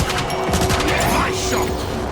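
Gunfire in the robot shooter game Transformers War for Cybertron, set amid war in Iacon city: loud bursts of shots with mechanical clanks and crashes run steadily over a short stretch.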